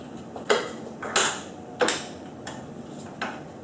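A torque wrench with a 14mm socket tightening the sprocket bolts on a Honda VFR800Fi motorcycle, several sharp clicks spaced about a second apart over faint background rattle, close and alone.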